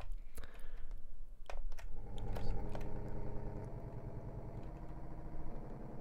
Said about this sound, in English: There's an engine running under there or something.